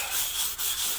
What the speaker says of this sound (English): once you scraped it off, work it with the brush